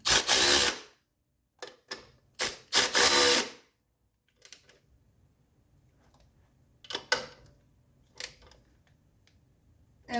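Bolts on the oil filter housing lid of a 1983 Mercedes 300D diesel are snugged down with a power tool, giving several short whirring bursts separated by quiet gaps and faint clicks.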